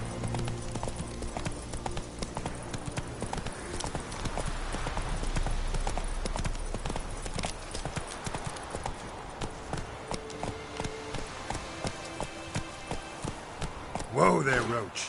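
Hooves of the horse Roach clip-clop in a steady trotting rhythm in the video game Witcher 3, close and even, with a brief whinny-like sound near the end and some talk over it.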